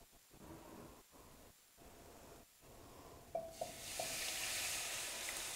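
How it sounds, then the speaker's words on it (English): Liquid poured into browned flour in a pan sizzles and hisses for homemade chicken pot pie gravy, with a few clinks of stirring before the hiss swells and holds steady, close and moderate. "I'm gonna go ahead and add our liquid to it and make our gravy."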